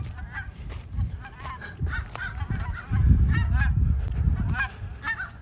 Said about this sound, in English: There's geese flying in front of me right now.